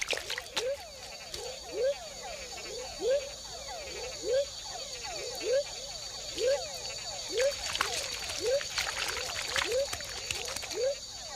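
Tiny frogs mating in shallow forest pools at the foot of dipteryx trees in Panama, giving a steady run of short, bright chirping calls repeated about once a second, close and clear over a busy insect chorus.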